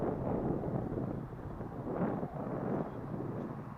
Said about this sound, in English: But this is very windy.